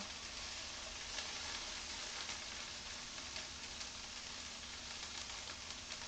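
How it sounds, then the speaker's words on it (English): Continuous sizzling of food frying in a pan, a dense, even crackle with faint pops throughout, no voices. "That's that sizzle though."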